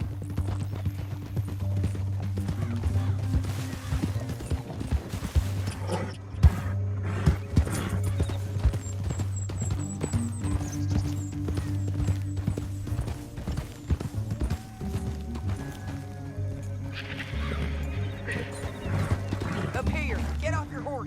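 Horse hooves galloping in Red Dead Redemption 2, a rapid continuous clip-clop under a steady musical score, with occasional whinnies, thuds and characters talking over the ride.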